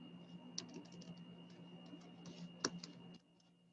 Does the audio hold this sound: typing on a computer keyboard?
yes